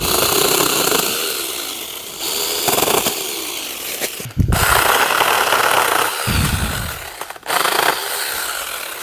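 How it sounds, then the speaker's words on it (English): A cordless 6-inch mini chainsaw with a 21-volt battery cuts through a small sapling. Its motor whines loudly and continuously, surging and dipping as the chain bites into the wood. "this 6-inch chainsaw, mini chainsaw with a 21 volt battery"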